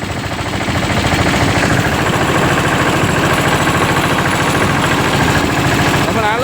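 A tractor engine runs loud and close while being driven, with a dense, steady pulsing drone throughout.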